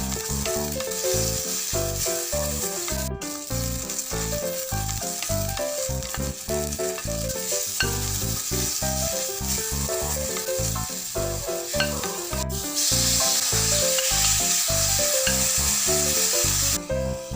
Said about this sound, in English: In a pan, put a little oil. Stir-fry all ingredients separately with pinch of salt.